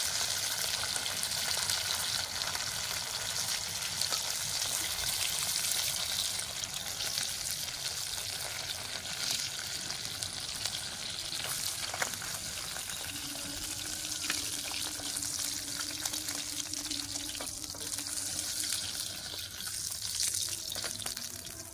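A steady, hissing sizzle of koi fish frying in hot oil continues throughout, with no one speaking.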